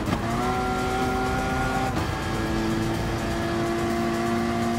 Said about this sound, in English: we're about to take over a Veyron in the Porsche Cayman